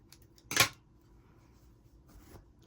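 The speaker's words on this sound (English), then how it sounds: "So now I'm going to cut this tail" Scissors snip through a crochet yarn tail on an amigurumi piece, one sharp close metallic cut amid quiet handling noise, no talking.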